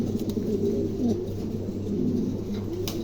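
A pair of German Cooper pigeons coo softly and repeatedly up close at a pigeon showroom, low rolling calls over a steady background hum.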